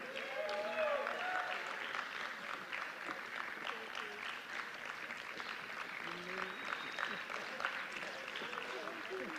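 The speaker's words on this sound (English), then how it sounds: "Can we give another round of applause for our graduates?" Sustained audience applause at a 2022 graduate end-of-year ceremony, a steady dense wash of many hands clapping throughout, with scattered voices and cheers mixed into the crowd noise.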